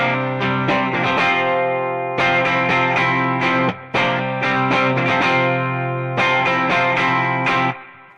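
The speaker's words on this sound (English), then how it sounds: "So if I play that without the pedal on, it'll sound something like this." Bright electric guitar with bass cut and treble up, played without a pedal, strummed chords in repeated phrases with short pauses between them, loud and clear with no talk.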